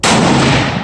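A single loud, close rifle shot from a 7mm Remington Magnum elk rifle, a sharp crack followed by a brief booming decay outdoors.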